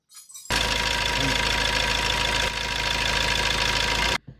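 Car engine running steadily with engine flush added to the old oil, a loud continuous mid-frequency drone with a faint knocking edge, starting abruptly and cutting off after about four seconds.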